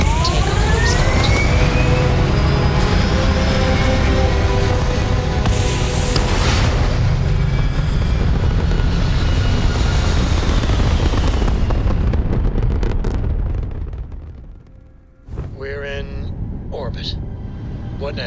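Spaceship takeoff in the Starfield video game: a loud, sustained roaring rumble that holds steady for about thirteen seconds, then fades and dips before resuming more quietly, with a voice talking over it.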